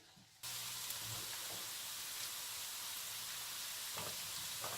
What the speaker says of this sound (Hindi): लहसुन हम जो है ना इसमें डालेंगे। थोड़ा सा इसको भून लो।